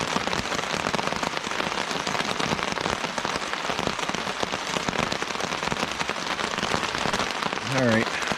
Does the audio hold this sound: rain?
yes